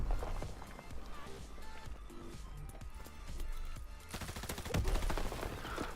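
Gunfire in the video game Call of Duty: WWII comes as rapid bursts of shots with quick footsteps in between. The shooting grows louder and denser toward the end.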